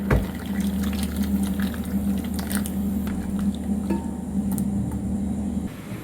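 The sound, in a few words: coconut milk being poured into vegetable stew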